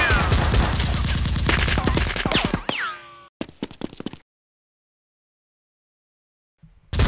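Action-film gunfire: a dense, loud fusillade of rapid shots with metallic whines and ricochets, then a few sharper separate bursts, a long silence and a final short hit at the end.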